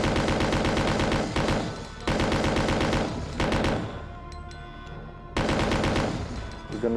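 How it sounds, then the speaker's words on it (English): Sustained bursts of rapid gunfire from a barrage of bullets in Resident Evil 2 on the N64, loud and close, in several long volleys with brief pauses and no talking. "kindly and politely unload a barrage of bullets at it"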